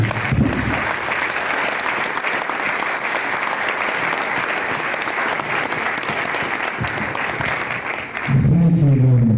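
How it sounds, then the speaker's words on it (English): Audience applause at an annual academic lecture and scientific session, sustained dense clapping for about eight seconds before a voice comes in near the end. "Can you please join me to clap for him?"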